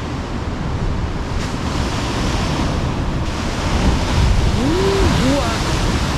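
Ocean surf breaking steadily on a shore in Malta, a continuous loud wash of waves with wind buffeting the microphone, and a few brief voice-like tones rising near the end.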